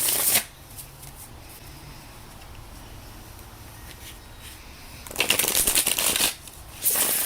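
Tarot cards being shuffled by hand in steady riffling bursts, loud near the start and again toward the end, with a soft papery rustle in between; no one speaks.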